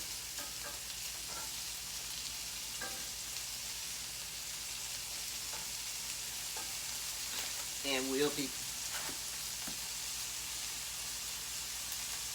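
Green onions browning in a frying pan, a steady close hiss of sizzling oil throughout, with a few faint clinks and a brief louder scrape or stir partway through.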